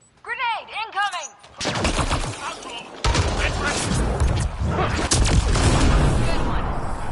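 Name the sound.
grenade explosion and gunfire in video game Mass Effect Andromeda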